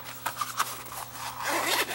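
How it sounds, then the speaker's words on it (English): A zipper being pulled along an earbud carry case in a few quick, close strokes, ending in a longer continuous zip. "and zip it shut"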